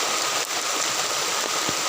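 Steady rain pours down in a broad, continuous hiss, close and even, with no voices.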